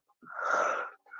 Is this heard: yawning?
yes